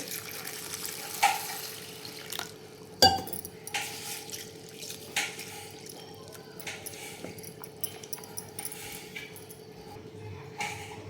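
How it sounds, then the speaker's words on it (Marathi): Faint water sloshing and trickling in a bowl, with occasional soft clinks and splashes, as lentils are rinsed by hand. "ही डाळ छान आपण स्वच्छ पाण्याने धुवून घेतली"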